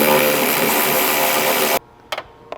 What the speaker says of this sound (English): We're going to go ahead and unscrew it.